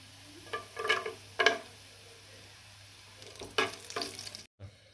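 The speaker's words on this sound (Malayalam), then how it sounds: "ഇനി നമുക്കതിലേക്ക് ഒരു 10-12 കശുവണ്ടിപ്പരിപ്പുണ്ട്, അതുകൂടി ഇട്ട് കൊടുക്കാം" Cashew nuts tipped into a hot pan of oil with chopped shallots for a Kerala mushroom stew, giving several bursts of crackling sizzle and stirring with a faint steady hum and a brief clatter near the end.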